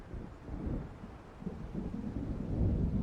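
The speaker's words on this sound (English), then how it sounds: "It seems there's a storm coming." Low rolling thunder of an approaching storm in the video game Alan Wake Remastered, a steady deep rumble that swells toward the end, with faint rain-like noise beneath and no voices.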